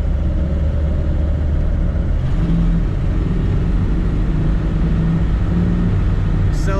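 A 1964 Cadillac Sedan DeVille four-door hardtop pulls away with a steady, fairly loud engine note, its low rumble rising gently as the car gathers speed, and nobody speaks.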